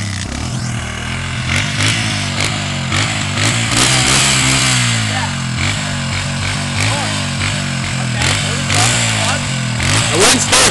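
A dirt bike engine revs and bogs unevenly as a rider learns to work the clutch, close and loud throughout, with a voice giving instructions over the engine.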